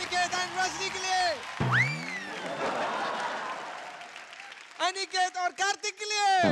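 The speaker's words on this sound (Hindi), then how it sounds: "जोरदार तालियां हो जाए अनिकेत एंड रजनी के लिए" Burst of applause from a studio audience for a dance duo on an Indian dance competition show, a dense wash of clapping that swells in the middle between stretches of a loud host voice and music.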